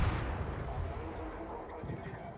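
Naval gunfire from a battleship salvo in the World of Warships game, a dense rumbling boom sustained at steady loudness throughout, with heavy low-end thunder rolling under the mix.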